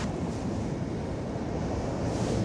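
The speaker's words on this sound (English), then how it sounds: "Sometimes the waves actually come twice the height of this over the top." Sea waves at Porthcawl harbour on a choppy day, a steady loud wash of surf with wind buffeting the microphone throughout, no voices.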